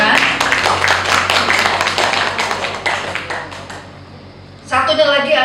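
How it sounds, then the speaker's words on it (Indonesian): An audience claps at a Lions Club gathering after a treasurer is introduced, giving a dense, steady patter of applause that fades out before a voice begins speaking near the end. "Tepuk tangan."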